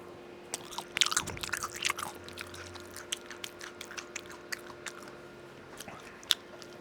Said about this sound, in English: Me chewing with my mouth open and talking with the mic.